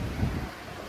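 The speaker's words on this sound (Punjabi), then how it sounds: "ਇੱਧਰ ਵੀ ਦੇਖੋ ਤੁਸੀਂ ਪਾਣੀ ਥੱਲੇ ਪਾਣੀ ਰੋਡ ਮਾ ਦੇਖੋ ਯਾਰ ਕਿੱਦਾਂ ਆ ਰਿਹਾ" Floodwater of the Beas river pours across a road in a steady broadband rush, a continuous close roar of moving water with wind buffeting the microphone.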